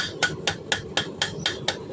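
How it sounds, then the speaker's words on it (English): Light hammer blows on hot metal at an anvil while forging a bottle opener: seven evenly spaced ringing strikes about a quarter second apart, close and clear, with no talk. "So it's just kind of light hammer blows, nothing really heavy."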